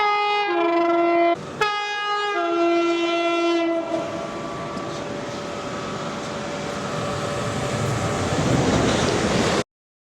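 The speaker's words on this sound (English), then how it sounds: "here comes the other train." A train pulling into Alton station on the South Western Railway sounds a long, loud two-tone horn that breaks briefly and resumes. A growing rumble and clatter of wheels follows as it draws close, ending abruptly.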